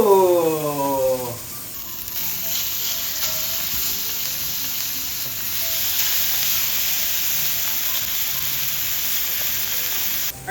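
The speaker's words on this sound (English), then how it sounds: "So now we're just basting with 2 tablespoons of butter and some crushed garlic" Butter and crushed garlic sizzling steadily in a hot pan while being basted at medium-low heat, a continuous loud frying hiss with a brief ringing clink at the start, no talk.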